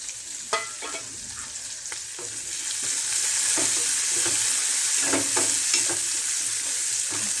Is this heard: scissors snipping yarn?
no